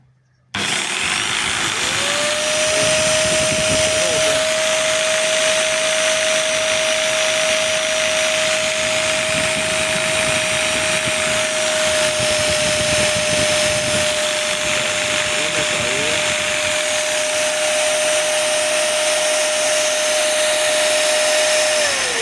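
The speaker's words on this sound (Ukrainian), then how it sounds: "коли я вмикаю електролобзик і вмикається пилосос" An electric jigsaw runs together with a Dnipro-M VCW-20SA construction vacuum cleaner, starting abruptly and then holding a loud, steady whine and roar with a constant motor tone for about twenty seconds, close by and with no talking.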